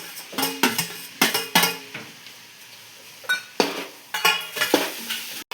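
Metal spoon stirring tomatoes in a cooking pot, with repeated clanks and scrapes against the pot's sides in irregular bursts, close and fairly loud, no voices.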